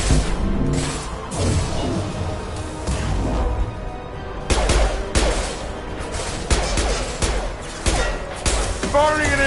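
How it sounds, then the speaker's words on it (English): Gunfire in Mass Effect 2 Legendary Edition combat, loud dense bursts and repeated shots packed together over a constant roar of battle effects. "Firing an impact shot!"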